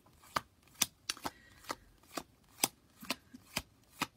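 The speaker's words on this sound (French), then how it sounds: "Donc là je vais aller chercher la carte 24 pour avoir la synthèse des deux." Oracle cards being shuffled and flipped through by hand, a series of about ten crisp, quiet slapping snaps at uneven intervals over a soft hiss, with no voices.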